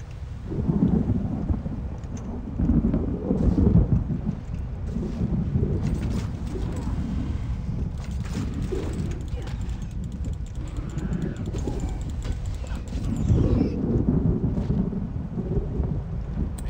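Thunderstorm in The Elder Scrolls Online played in VR on an Oculus Rift, with steady rain and rolling low thunder swelling and fading near the start, middle and end, loud and without talk.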